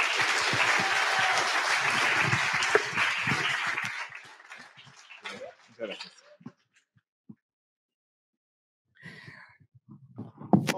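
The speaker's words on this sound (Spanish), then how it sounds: "¡Un aplauso, por favor!" A meetup audience at a web development talk applauds loudly for about four seconds, then the clapping fades into near silence with scattered faint sounds and a short voice near the end.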